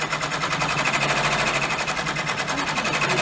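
An embroidery machine stitches overstitching around the edges of a pocket tissue holder, giving a fast, steady rattling needle beat that runs evenly throughout, loud and close with no talking.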